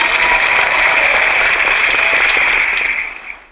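An audience claps loudly and steadily after a presentation about lavender's power to improve communities, a dense wash of applause lasting about three seconds before fading out.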